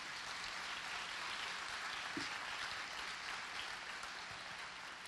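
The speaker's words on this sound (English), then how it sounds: "Let's give them all one last round of applause" Faint, steady applause from a pageant audience for young contestants, an even wash of distant clapping with no voices over it.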